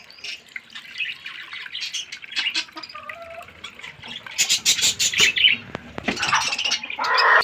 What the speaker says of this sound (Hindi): गाइस कॉकटेल्स को देखें